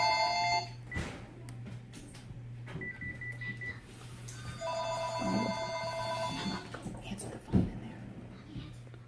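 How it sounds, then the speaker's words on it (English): A telephone rings with repeated electronic tone bursts, pausing between rings, against a steady low hum during an interview setting. "that's my phone ringing"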